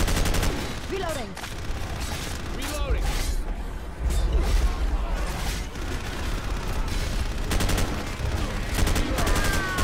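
Repeated bursts of gunfire from a Left 4 Dead 2 match on a City 17 map, shots scattered through the clip and sometimes rapid like automatic fire, with people talking throughout.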